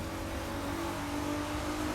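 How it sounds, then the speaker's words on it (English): Nissan Skyline R34 engine in The Crew 2 racing game, a steady, dense droning engine note held at constant revs, quiet and continuous without talk. "One of my many gripes which a lot of YouTubers commented on, which I have to agree, is the engine sound."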